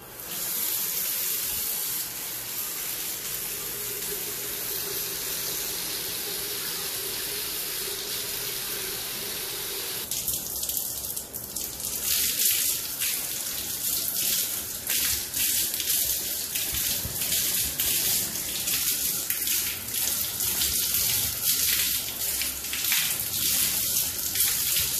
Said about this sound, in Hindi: अब मैं दिखाता हूँ कि आप इसको पानी से कैसे वॉश कर सकते हैं.